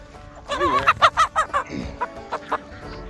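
A rooster being handled on a small homestead lets out a quick run of loud, rhythmic clucks close up, then a few softer spaced clucks as it settles.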